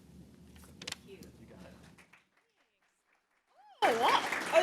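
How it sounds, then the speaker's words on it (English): Audience applause breaks out at a Comic Con comics forum event at Michigan State University, a burst of dense clapping that starts abruptly after a quiet pause, preceded by faint murmuring talk. "Oh, they're clapping for you, not for me"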